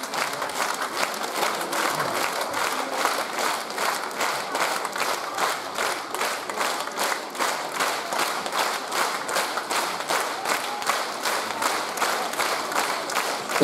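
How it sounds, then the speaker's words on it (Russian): Concert audience applause at a cover concert: steady, fairly loud clapping from a full hall that keeps an even rhythmic pulse throughout, with no talking over it. "аплодисменты моим родителям"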